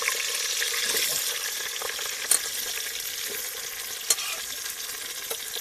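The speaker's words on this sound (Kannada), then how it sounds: "ಎಣ್ಣೆ ಬಿಸಿ ಆದ ಥರ ಈರುಳ್ಳಿ ಬೇಯಿಸ್ಕೊಬಿಡ್ಬೇಕು" Onions frying in hot oil at a night campsite, a steady hissing sizzle up close with a couple of sharp clinks or scrapes, no one talking.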